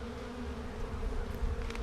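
Honeybees in a super beehive box give a close, low, steady buzzing hum with a few brief wing flutters, quiet and unbroken throughout.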